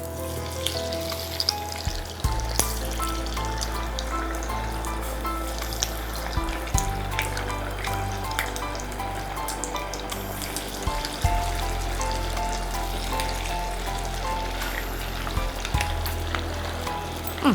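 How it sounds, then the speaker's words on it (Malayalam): Meat parippu vada, lentil fritters with meat, fry in hot oil in an iron pan, a loud continuous close sizzle with occasional sharp splutters and clinks throughout, no voices. "ഇനി നമുക്ക് വട ഓരോന്നായിട്ട് ഇടാം"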